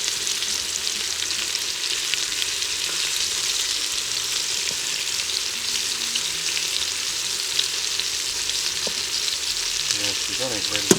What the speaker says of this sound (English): I got this set on a high saute.